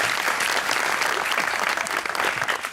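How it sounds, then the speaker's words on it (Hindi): Audience applause rings out loud and sustained from a crowd at an interview event, a dense, even wash of clapping with no talk over it. "तालियां इनके सवाल के लिए।"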